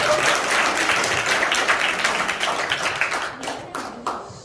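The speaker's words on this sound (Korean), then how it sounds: "여러분 다시 한번 우리 이태영 회장님, 안미진 대표님에게 박수 부탁드립니다" Convention audience at a fashion show event applauding, a dense burst of many hands clapping together that stays strong, then tapers off with a few final claps.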